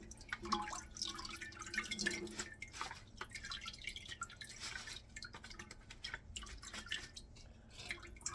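Washed basil leaves draining, with water dripping and trickling in irregular small drops and splashes, close and fairly quiet.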